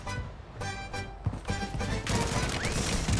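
Gunfire in the video game Warzone, a series of sharp shots and impacts in quick bursts, loud and close over busy game background noise.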